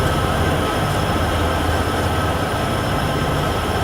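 Freight locomotive rumbling steadily in the Train Sim World 6 simulator on the Cheyenne–Laramie route, hauling grain cars: a loud, continuous low engine drone with rail noise that holds constant throughout, with no voices over it.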